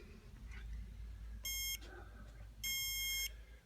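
Two bursts of high, rapid electronic beeping from a bug detector alarm in a hotel room sound over a low background hum, the second burst longer than the first.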